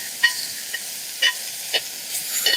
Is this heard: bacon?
yes